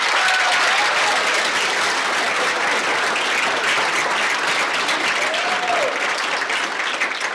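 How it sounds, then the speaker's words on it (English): Warm, sustained applause from a concert audience honoring senior band members at a Grantsburg Schools 7th–12th grade spring concert, steady and full throughout with faint crowd murmur beneath. "Let's give them a round of applause."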